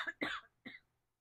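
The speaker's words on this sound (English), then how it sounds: "excuse me, I'm going to cough." A person coughs close by in three short, sharp bursts, with the last one a little weaker, and no other sound around them.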